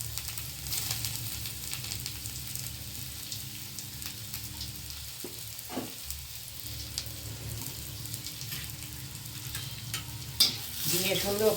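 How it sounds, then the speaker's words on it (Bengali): Radish frying in ghee in a pan, a steady close sizzle with intermittent stirring scrapes and clinks, growing slightly louder near the end. "দিয়ে সুন্দর করে একটু ভেজে নেবো"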